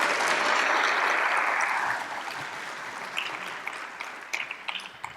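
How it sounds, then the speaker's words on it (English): Audience applause for a speaker, full and loud at first, then thinning into scattered individual claps that taper off. "Another round of applause for him, please."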